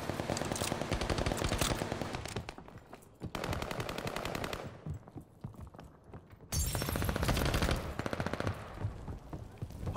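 Automatic gunfire from a Call of Duty: Vanguard hardpoint match: loud, dense bursts of rapid shots that break off briefly and resume, with scattered single cracks between the volleys.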